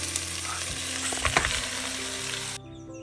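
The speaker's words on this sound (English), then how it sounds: "Fry the onions until they are translucent and then add 1 kg of mutton." Sliced onions and mutton fry in a pot, giving a steady close sizzle with a few stirring clatters in the middle before the sizzle cuts off near the end.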